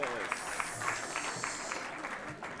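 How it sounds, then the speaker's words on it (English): Sustained audience applause for the conference chairs at a research plan launch, a steady wash of clapping with scattered louder claps, moderately distant and filling the room. "A big round of applause once again for our chairs."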